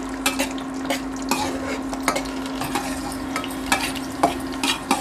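Okra pieces slit down the middle fry in hot oil in a pan, giving a steady sizzle broken by sharp clicks and scrapes of a spoon stirring, close and moderately loud with no voices.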